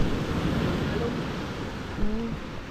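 Ocean waves wash and surge in a continuous, soft rush at sea, with wind over the microphone and faint voices in the background.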